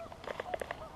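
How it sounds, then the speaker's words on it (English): Geese that have just landed on a spring-fed lake honk in a quick, close cluster of calls, moderately faint against quiet water, with no talk. "Got all them geese that just landed right out in the water, out in front of us."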